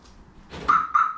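Two short electronic chirps from a Daewoo Matiz car alarm, close by, following a soft rustle.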